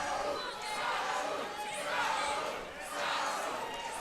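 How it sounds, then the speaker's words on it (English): A crowd at a Shamrock FC MMA event cheers and chants for a fighter. The sound comes in swelling waves with a slight dip near the end, mixed with some talk. "This crowd is absolutely behind Raul Romero"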